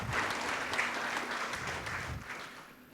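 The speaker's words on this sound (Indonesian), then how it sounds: "Yang mau berikan tepuk tangan yang paling meriah buat Tuhan kita." A church congregation at an online worship service claps together for God, a sustained wash of applause for about three seconds that fades slightly at the close.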